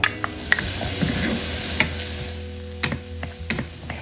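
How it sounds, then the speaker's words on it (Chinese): Onions being stir-fried in a flat pan with a little oil over low heat, a soft sizzle underneath sharp clicks and taps from a utensil scraping and stirring at an irregular pace. "先把洋葱炒软"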